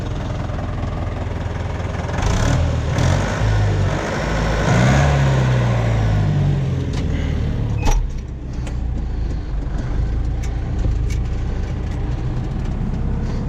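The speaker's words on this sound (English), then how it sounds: "Let's listen to that exhaust." A Deutz-Fahr, John Deere or Fendt tractor's diesel engine idles steadily close by, a low continuous exhaust rumble with a few clicks and knocks.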